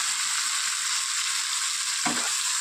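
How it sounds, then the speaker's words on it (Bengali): Onion and grated tomato with salt frying in oil in a pan for a pomfret fish curry, giving a steady, close hiss throughout, with a brief soft knock of stirring near the end. "এবার এইটাও একটু ভাজা ভাজা করে নেবো"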